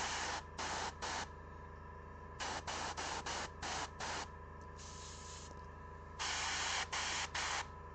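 An airbrush sprays gold paint onto miniature armor in short hissing bursts, some longer than others, over a constant low hum, with no talking.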